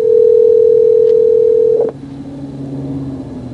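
A phone on speakerphone in a police car, a steady single tone for nearly two seconds, then dropping to quieter lower tones over engine rumble; no talking.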